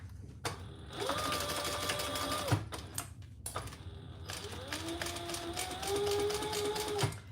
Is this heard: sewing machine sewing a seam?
yes